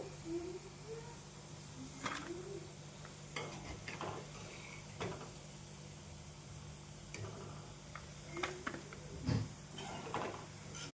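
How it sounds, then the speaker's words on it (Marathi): Soybean pakoras frying in hot oil and being stirred, a steady low sizzle with scattered spoon scrapes and taps throughout, no voices. "ब्राऊन होईपर्यंत आपल्याला असे तळून घ्यायचंय. आता असं हलवून घ्यायचंय."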